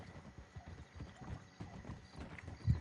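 Steady clip-clop of horse hooves walking at an even rhythm, fairly close, with a short snort or whinny near the end.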